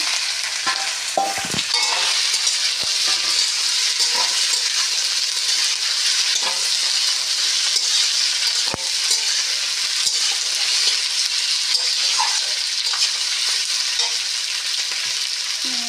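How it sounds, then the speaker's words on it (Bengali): Loud, continuous frying sizzle of potatoes and okra in a pan, with scraping and stirring, occasional clinks, no voices. "আলু আর ভেন্ডিগুলো দিয়ে দিচ্ছি। ভাজা ভাজা হয়ে গেছে এগুলো।"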